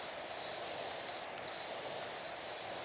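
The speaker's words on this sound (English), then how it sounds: "Let's spray that corner" Pressure washer spraying in the game PowerWash Simulator 2, a constant broadband hissing jet held steady throughout with a few brief dips and clicks, close and fairly loud.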